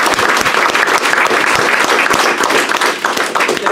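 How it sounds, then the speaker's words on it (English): Audience applause fills a candidate forum for state Senate District 44 in Hopkins, a dense, steady clapping from a full room that holds at the same level throughout, with no talk over it. "let's have a round of applause for our"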